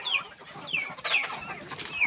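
Desi chickens cluck on a farm, a few close hens giving short rising and falling calls in quick succession over quiet background, with no talking.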